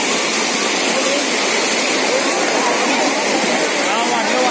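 Water roars out of the burst Khadakwasla dam canal near Dandekar bridge in Pune, a loud, unbroken close rush with faint voices under it.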